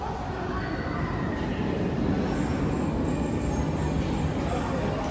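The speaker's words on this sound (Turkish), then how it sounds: "Burada 5 dakikada bir tren geliyor." A train rumbles steadily close by at a Europa-Park station, with dense low-frequency noise and faint metallic rail sounds throughout, as if rolling through a station.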